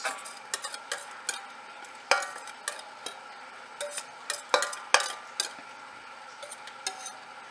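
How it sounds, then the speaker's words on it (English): Icing for a yema cake being stirred in a pan over low heat, with a utensil scraping and tapping the pan in irregular close strokes against a faint simmering hiss. "we're just gonna keep on stirring this"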